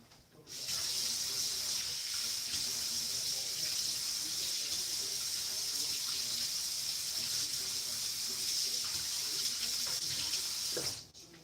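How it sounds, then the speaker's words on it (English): A pepper rinsed under a running kitchen tap, a steady close hissing gush of water that starts abruptly, flows evenly for about ten seconds, then cuts off. "Let me rinse it off."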